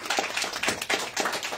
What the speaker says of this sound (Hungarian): Tapsot kérlek.